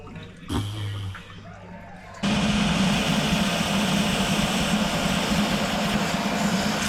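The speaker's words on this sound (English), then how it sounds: "it's just dumping out the rest of its water" A brief knock and faint trickle, then a sudden steady rush of water draining out of a heating boiler, loud and continuous to the end.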